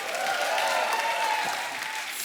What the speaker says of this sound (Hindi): एक बार जोरदार ताली हो जाए मेरी।